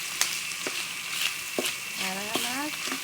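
Pork flanks and heart sauté in a pan with onions, a steady sizzle broken by sharp clanks and scrapes of stirring and a brief squeak, close and fairly loud with no talk.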